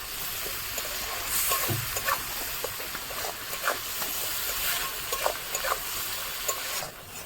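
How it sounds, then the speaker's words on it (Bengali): Spice masala with bay leaves and a splash of water sautéing in a pan for a fish roe curry, a steady close sizzle with scattered soft stirring scrapes, no voices. "মশলাটা খুব ভালো করে কষিয়ে নেব"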